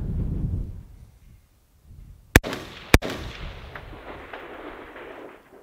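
A PSA MK12 Mod0 clone rifle fires a quick double tap outdoors, two loud sharp reports about half a second apart, each followed by a rolling echo.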